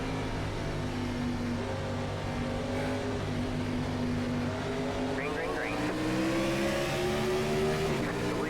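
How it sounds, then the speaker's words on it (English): A NASCAR Gen 4 car at Michigan in iRacing roars at sustained high revs, with a brief rising chirp of wheel spin near the end, the engine drone steady and loud throughout. "A little bit of wheel spin there."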